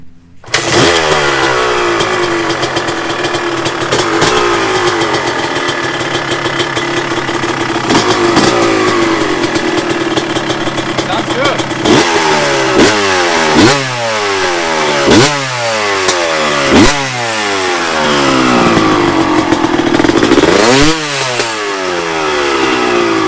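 A 2002 Honda CR250R two-stroke dirt bike runs loud and close after a kickstart, holding a steady buzzing idle before a string of sharp throttle blips that rise and fall in quick succession, with one last big rev near the end.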